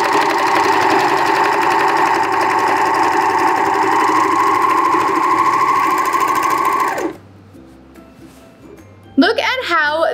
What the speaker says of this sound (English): Now it's time to head over to the serger and finish off the raw edge